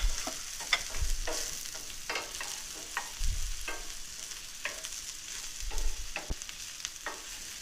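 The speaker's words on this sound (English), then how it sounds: "And we're going to add that and get that to start sauteing." About 6 ounces of shiitake mushrooms sauté in a pan with a soft steady sizzle, broken by repeated scraping and stirring clicks of a utensil against the pan, close and fairly quiet with no talking.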